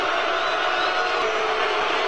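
A wrestling arena crowd at a wrestling show reacts with continuous loud, dense roaring and cheering, a steady wash of voices that holds level throughout.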